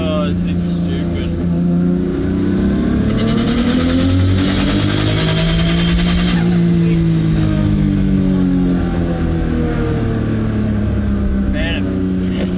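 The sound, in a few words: RB20-swapped Ford AU Falcon engine revving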